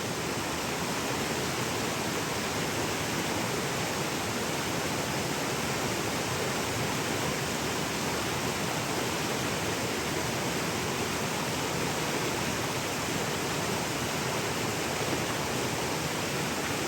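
A stream swollen by monsoon rains rushes in a loud, unbroken broadband roar that stays steady throughout, with no voices heard.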